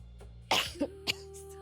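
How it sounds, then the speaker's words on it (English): A single sharp cough close to the mic, followed by a couple of smaller throat sounds, over a faint steady hum. "sorry about the cough."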